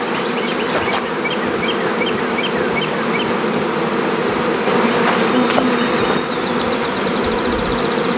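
Honey bees swarm around two beehives on a homestead, a dense continuous buzz close by with individual bees zipping past, steady and loud with no talking.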